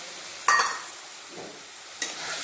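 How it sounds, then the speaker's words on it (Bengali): Soaked paste of ground cumin, coriander, chilli and turmeric being stirred and fried in a pan for a snail curry, with two short sizzling bursts as the spatula moves and a quiet stretch between them. "এরপর মশলাটা ভালোভাবে কষে নেব।"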